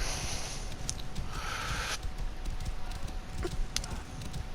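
Horse hooves clip-clopping at a steady rhythmic gait while riding across terrain in Assassin's Creed Origins, a continuous close patter with brief rustling game effects and a voice talking over it.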